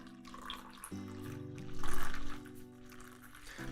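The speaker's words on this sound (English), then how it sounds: "the sound of hot water and the sound of cold water is completely different" Water runs from a tap as a steady, fairly quiet rush that swells briefly in the middle, with faint background hum throughout.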